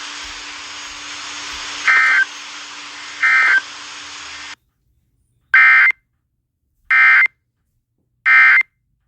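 Emergency Alert System tones for a California tsunami warning: a continuous harsh buzzing tone pierced by two short beeps, then silence and three loud, evenly spaced data bursts, all without talk.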